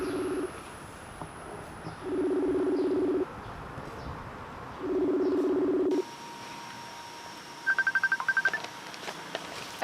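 Mobile phone ringing with an incoming call: repeated electronic ring bursts, then a quick chirping tone pattern, with faint bird coos in the background.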